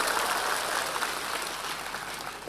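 Congregation applause fills a church service in Sumba Timur during a sermon, a steady, dense wash of clapping that holds at an even level throughout, with no voices over it.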